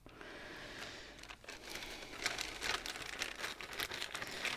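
Crinkling of a floss tube's plastic packaging, a close, dry rustle with scattered crackling bursts that grows louder toward the end.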